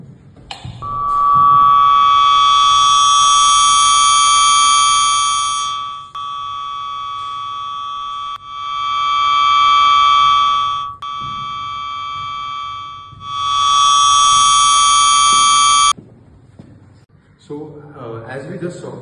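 Steady high-pitched electronic tone from an Arduino Uno driven unidirectional speaker array, rising and fading in three long swells as the beam angle shifts, loud and sustained, with faint talk near the end.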